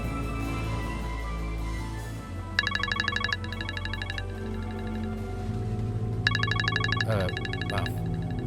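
A phone ringtone plays in repeated bright bursts over a dramatic background music bed, ringing in two separate spells several seconds apart, with no speech over it.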